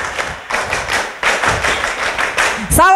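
A group of people at a museum learning session claps their hands in several bursts of rhythmic clapping, loud and near, with chatter mixed in and a tonal sound at the end.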